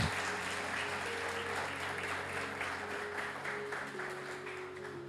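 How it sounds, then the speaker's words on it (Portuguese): A Sunday church congregation applauds a family in a continuous, even roar of clapping, with steady background music or organ tones running underneath throughout. "Vamos dar uma salva de palmas para esta família"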